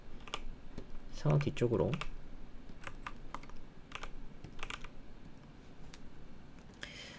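Computer keyboard keys are pressed for shortcuts while working in Blender 3D software, giving a few soft, scattered clicks close by under a man's steady speech.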